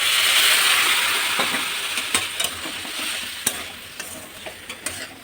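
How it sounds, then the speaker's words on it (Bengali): Potatoes sautéing and being stirred with spices and a splash of water in a pan give a steady close sizzle, punctuated by scattered sharp scrapes and taps from the stirring utensil; no one speaks. "আমি এইভাবে আলুটাকে আমি ভালো করে কষিয়ে নেব"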